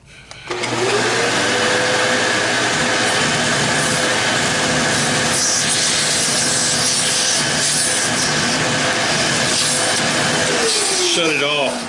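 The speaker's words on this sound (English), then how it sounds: "Vacuum cleaner is a good idea." A vacuum cleaner runs steadily at close range with a loud, continuous whine and hiss, starting up at the beginning and winding down near the end, with voices talking over it.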